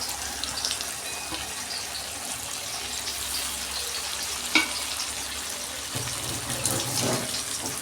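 Bhola fish fries in a pan with spices, giving a steady soft sizzle that runs throughout with a brief clatter partway through.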